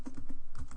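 Quick, even keystrokes tap out a search on a computer keyboard, about a dozen close, crisp clicks in a steady rhythm.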